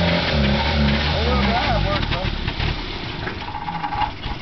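Small Suzuki Samurai 4x4 engine revving and labouring while stuck in a ditch, a loud close drone that rises and falls, with people talking over it.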